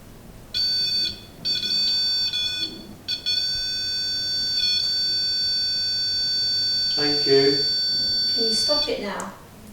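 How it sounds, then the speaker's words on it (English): Loud, steady electronic beeping tones sound in short bursts, then one long sustained beep, with people talking over the end. "can you make that beep again?"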